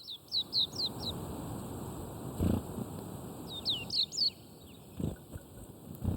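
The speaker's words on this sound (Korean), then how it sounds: "익숙하게 날아들어 쌀을 먹는 산새들" Mountain birds at a temple in winter chirp in short quick bursts of high calls, near and clear, with soft rustles and a few thumps between calls.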